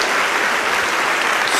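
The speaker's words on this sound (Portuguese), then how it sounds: "Dê uma salva de palmas a Jesus" Church congregation applauding together, a dense, steady clatter of many hands clapping close by, sustained evenly for the whole moment with no talk on top.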